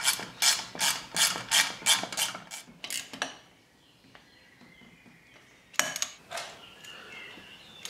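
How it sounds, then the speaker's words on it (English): Ratchet clicking in a quick, close series of strokes while tightening two 10mm bolts on the lower unit of a Yamaha outboard engine, then a pause and a couple more clicks. "We can now tighten up the two 10mm bolts"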